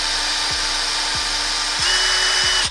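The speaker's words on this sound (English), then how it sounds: "if you gently get your drill, put your cables in your chuck" A power drill whirs steadily at close range, twisting alarm cables held in its chuck, its pitch shifting slightly as it spins, with faint rhythmic ticks before it stops.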